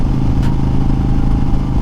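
A 2020 Honda Fury motorcycle engine roars up close, its rumbling exhaust steady and loud as it picks up speed, with wind noise over it.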